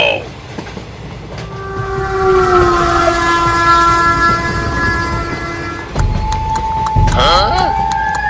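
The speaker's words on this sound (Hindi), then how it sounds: "अब ट्रेन जंगल में से होकर गुजरेगी।" A train passes through jungle, with a steady rumble under a long horn blast and more horn notes near the end, all loud and close.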